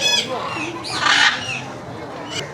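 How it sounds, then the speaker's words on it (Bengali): A macaw at Chittagong Zoo lets out harsh, loud squawks close by from its cage, with a person talking in the background. "বিশাল সাউন্ড করতে পারে ম্যাকাগুলো এটা ম্যাকাও পাখির খাঁচা এই ম্যাকাওদের সাউন্ড অনেক বেশি"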